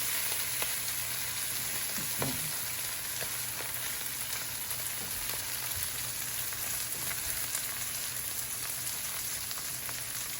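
Food browns in a pan, Southern home style, under a dense, even sizzle that holds steady throughout, with faint occasional ticks and pops.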